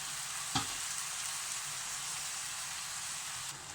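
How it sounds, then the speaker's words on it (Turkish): Squash cooking in a pot, boiling in its own released liquid, gives a steady close hiss and bubbling, with a single brief knock of the stirring spoon near the start. "ve tekrar karıştırıyoruz."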